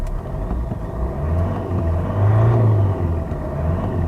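A used luxury car with a stability-control fault and engine warning light idles and revs roughly, a low uneven rumble with a swelling surge partway through, close by.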